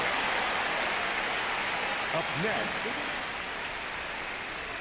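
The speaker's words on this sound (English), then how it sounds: "It feels like we might be headed towards a rain delay if the weather doesn't ease up" Steady broadband rain hiss fills a baseball game in MLB The Show 26, a constant wash of falling rain with brief spoken commentary over it.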